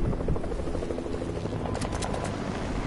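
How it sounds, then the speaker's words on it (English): A helicopter in a shooter video game thrums steadily and loudly, its rotor chop holding close throughout, with a few sharp bursts like gunfire near the end. "Is a chopper coming?"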